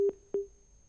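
A telephone line gives a busy tone after a call drops, two short, steady beeps spaced apart, then the line goes quiet with a faint hum.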